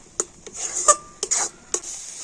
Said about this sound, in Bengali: আর এবার আমি কন্টিনিউ এইভাবে নাড়াচাড়া করে তো সুন্দর একটা আঠালো পুর তৈরি করে নেব।